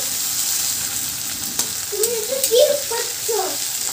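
Potatoes fry in oil with curry leaves, crackling and sizzling up close under stirring, while a voice speaks briefly in the second half.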